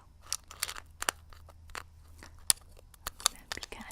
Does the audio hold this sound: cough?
no